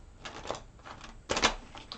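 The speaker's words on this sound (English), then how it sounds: "One more shuffle for our Pisces." Tarot cards being shuffled in quick, crisp bursts of riffling and flicking, with a louder cluster of snaps near the end, close and alone without talk.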